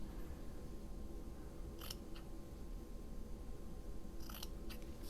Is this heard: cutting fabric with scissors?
yes